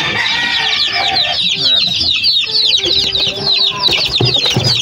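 Young chicks chirp and cluck busily at a feeder tray while eating, a dense, continuous chorus of high peeps close by with a few low tones mixed in.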